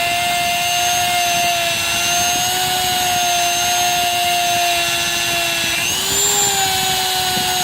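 A rotary tool runs at high RPM polishing Arsenal SLR-104 rifle parts, a loud, steady high-pitched whine with a slight pitch shift near the end, no talk.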